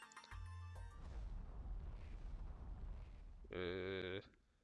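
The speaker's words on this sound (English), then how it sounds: "Explosions?" In Pokémon Moon, a deep, rumbling explosion boom rolls on for several seconds, then a bright synthesized tone rings out briefly before the sound fades; very quiet overall.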